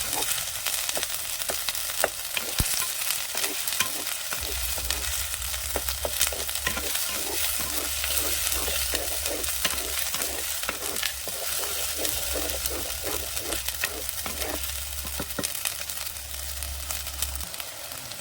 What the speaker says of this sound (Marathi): टोमॅटो घालून घेते मसाला आहे ना आपल्याला भाजून घ्यायचा